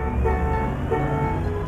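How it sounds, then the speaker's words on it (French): Peugeot car horn in Euro Truck Simulator 2, a steady sustained honk held throughout at close range over a low engine hum, with no talk. "mais enfin on va essayer le klaxon."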